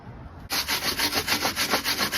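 Rhythmic scraping on a rusty, welded car body panel of a Honda Civic during rust repair, starting abruptly and continuing as about a dozen quick, even back-and-forth strokes, close and fairly loud.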